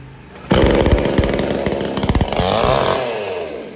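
A new chainsaw roars to life up close, its engine sputtering and revving unevenly before settling into a loud, steady idle.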